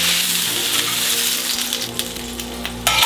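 A steak frying in a pan for a pepper-sauce dish gives a steady, close sizzle with a bright hiss, running throughout, with a sharper burst of spitting near the end.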